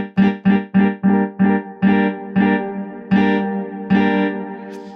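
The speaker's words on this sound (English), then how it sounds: "We can hear we've got some reverb on there" A SynthMaster 3 synthesizer on an iPad, with reverb, plays a run of short, punchy repeated notes that give way to longer sustained tones, each leaving a soft reverberant tail. The notes are loud, close and clear, with no talking.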